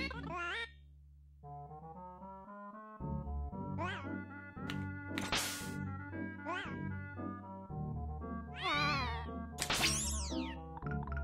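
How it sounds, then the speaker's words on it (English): Cartoon cat in the Pac-Man 2: The New Adventures video game meowing repeatedly, a run of rising and falling yowls and caterwauls over a low looping game backdrop, close and clear. "do not mess with kitty"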